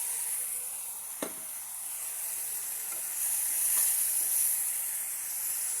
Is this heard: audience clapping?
no